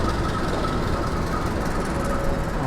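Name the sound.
Jayabaya train passing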